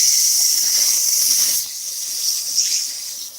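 Hand sanding a wooden ring with 220-grit sandpaper: a steady, close, airy hiss of paper rubbing wood, continuous throughout and softening slightly partway through, with no talking.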